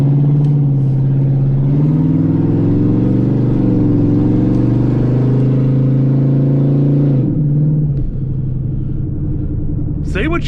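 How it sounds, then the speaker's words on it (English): Engine of a 2003 Ford Explorer revving hard with no exhaust system fitted, a loud raw rumbling roar held steady for about seven seconds, then dropping off with a brief blip and settling to idle. "Say what you will, this motor sounds good unrestricted."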